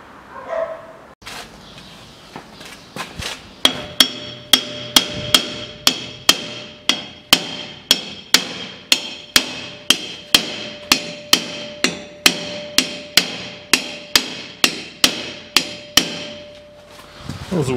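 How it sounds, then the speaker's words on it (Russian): Hammer blows knocking loose the rear brake drums on a 2006 Hyundai Porter truck, a long run of sharp metallic clangs at a fairly steady pace, loud and close with a ringing tone and no talk. "отбивать задние тормозные барабаны"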